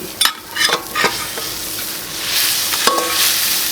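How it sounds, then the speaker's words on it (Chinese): River fish cooking in a very large pot alongside spices, with a busy bubbling sizzle and several scraping stirs of a utensil, close and steady throughout. "现在把鱼下进去了，把鱼煮熟"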